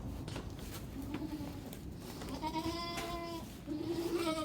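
Goats on a farm bleat several times, with wavering, nasal calls coming fairly close over a steady background hiss. One call rises near the end and no talk is heard.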